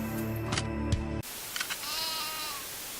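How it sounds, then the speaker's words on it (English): A single close goat bleat played from a tape in a video game, with a buzzy, wavering tone, cut off abruptly and followed by faint high tones over a hissy background. "That was a goat"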